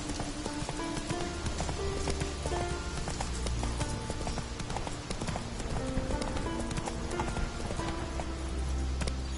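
Roach the horse gallops in The Witcher 3: Wild Hunt, a steady rapid clip-clop of hooves running throughout, dense and close, over a continuous ambient game soundscape with music-like tones.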